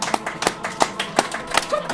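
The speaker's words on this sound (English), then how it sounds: "Play for audience applause." An audience applause sound effect plays during a tabletop role-playing game session, a brief patter of sharp claps and taps lasting about two seconds.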